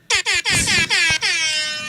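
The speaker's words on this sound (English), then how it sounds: "Ready with the air horns." An air horn blares in several short, loud blasts that run into a longer sustained honk, which fades slightly at the end.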